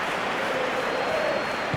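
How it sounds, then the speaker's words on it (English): In a football simulation game, a stadium crowd applauds as a steady, dense wash of clapping and crowd noise. A faint tonal murmur runs underneath. "it's applause all around us here"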